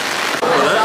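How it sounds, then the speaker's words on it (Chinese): Heavy rain falls steadily outdoors as a dense, continuous hiss at a constant loud level, with no talking audible. "今天一天都在下雨，从昨天晚上洗完车一直下到现在"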